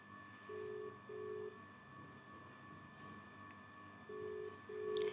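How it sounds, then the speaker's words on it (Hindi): Ringback tone of an outgoing phone call made from a mobile handset, two steady beeping pulses repeating with a pause between pairs, moderately loud over faint background hum. "रिंग हो रही है।"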